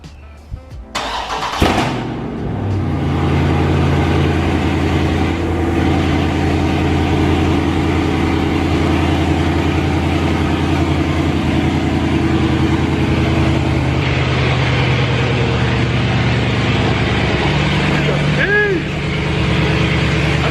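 A 2019 Dodge Charger Scat Pack cranks and fires on a cold start after sitting a week, a loud revving flare that settles into a deep, steady, close idle drone, with someone speaking over it.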